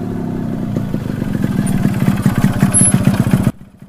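A motorcycle engine chugs and revs nearby in a rhythmic, throbbing putter that builds in loudness, then cuts off abruptly before the end.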